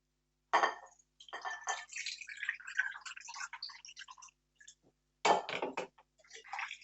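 Varagu millet rice being rinsed in water gives close, soft sloshing and dripping with light clinks against a vessel, coming in uneven bursts separated by short quiet pauses.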